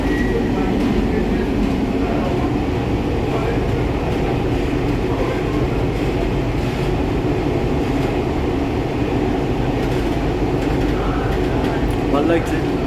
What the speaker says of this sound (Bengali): নিজের বাড়ির সামনে দিয়ে মেট্রোটা যাচ্ছে